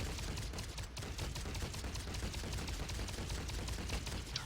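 Rapid, dense energy gunfire from Star-Lord's Elemental Barrage in the Marvel Heroes video game rattles without pause as a fast, continuous stream of shots, fairly quiet overall.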